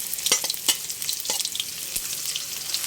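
Ginger and onion sizzle in hot oil in a pan for a Filipino burong isda dish, a steady bright crackle broken by several sharp scraping stirs, close and fairly loud with no voices.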